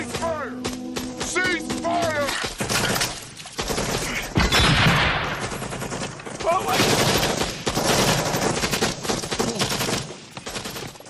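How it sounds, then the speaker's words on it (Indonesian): Rapid bursts of machine-gun fire and scattered gunshots in an attack on resting soldiers near rice fields in a war film, dense and loud, with shouting voices mixed in. "serangan itu menyebabkan Brownie tertembak dan kehilangan banyak darah"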